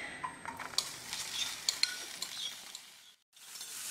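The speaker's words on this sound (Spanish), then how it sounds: "Tenemos nuestra tocineta cortada en cuadritos, la cual vamos a añadir ahorita a nuestro sartén sin nada de grasa para que se dore." Diced bacon sizzles in a dry frying pan with no added fat, giving a steady crackling hiss with scattered sharp pops and clinks, then a brief drop to near silence before the sizzle resumes.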